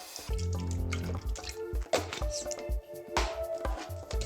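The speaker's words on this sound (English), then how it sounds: "In the Thermomix, we're gonna go with some egg and some water." Water and egg go into a Thermomix bowl in a kitchen, making close, irregular splashing and dripping sounds with soft wet squishes. It is fairly quiet and there is no talking.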